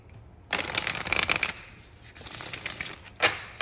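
A Work Your Light Oracle card deck is shuffled close up, with a burst of crisp riffling followed by softer sliding and a final snap, quiet and alone.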